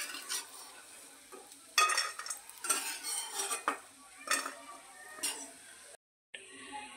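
Fried dried Bombay duck (bombil) is lifted out of a hot kadhai, with repeated metal clinks and scrapes of a spatula against the pan over a faint sizzle, stopping briefly near the end.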